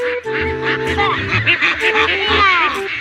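Loud, nasal quacking and honking from several ducks nearby, overlapping in a noisy, continuous chorus with a human voice mixed in.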